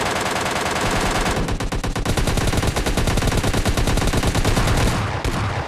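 Rapid automatic gunfire in a PUBG Lite firefight, including shots from an MK14 rifle, a dense, loud stream of bursts, heavier after the first second and a half, with no talk.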